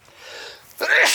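A single sharp sneeze bursts out close and loud after a stretch of quiet murmuring, the kind of break that comes mid-task while polishing axle spacers on a 1983 Honda ATC 70 three-wheeler.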